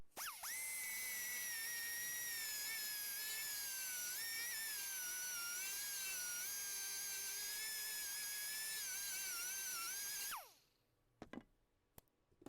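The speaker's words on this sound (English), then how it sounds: "Now you want to cut a groove in here, so the flange for the 6-mine will go in there." A high-pitched rotary cutting tool whines steadily for about ten seconds, cutting a groove into the plastic of a Rockford Fosgate Harley-Davidson 6x9 speaker lid, its pitch wavering slightly under load before it spins down and stops, followed by a few faint clicks.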